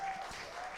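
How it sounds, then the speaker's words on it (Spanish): An audience applauds at a religious retreat lecture, giving a short, even patter of clapping that stays fairly faint and steady throughout with no voices over it. "Démosle un aplauso también entonces de Jerusalén, al pueblo de Jerusalén."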